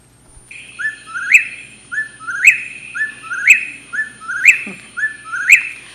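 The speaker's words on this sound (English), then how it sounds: "but they're nocturnal birds. So they're very active at night, and they're also very loud." Recorded calls of loud nocturnal birds, played back at Kitt Peak, Arizona: a regular series of about six rising, chirping whistles, repeated roughly once a second, clear and fairly close with no talk over them.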